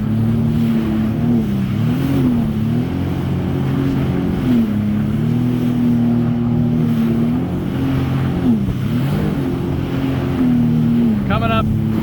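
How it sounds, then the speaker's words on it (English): A boat engine drones loudly and steadily while crossing waves on Lake Michigan, its pitch dipping and rising as the throttle eases off near the wave tops. A voice speaks over the engine. "Coming up into a wave like that, I let her throttle down on top of the wave"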